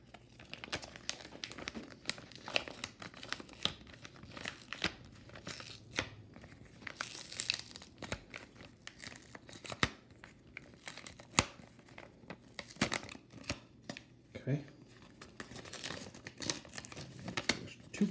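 Paper envelopes holding returned mail are torn open and handled, with crinkling, ripping and rustling in irregular bursts, close and fairly quiet over about eighteen seconds.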